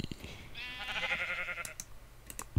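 A sheep bleats in a sky-house sheep pen in Minecraft, one drawn-out wavering baa lasting about a second, framed by soft clicks and light tapping sounds before and after, with no speech.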